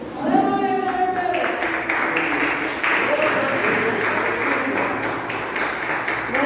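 A church congregation claps steadily throughout, a continuous wash of hands under a voice and sustained tones, moderately loud and close.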